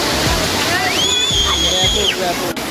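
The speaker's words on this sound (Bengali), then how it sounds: "জলের এত আওয়াজ, দারুণ লাগছে" Water roars at Chitrakoot Waterfalls, a loud, steady rushing wash heard close by, with a whistle-like tone rising over it partway through.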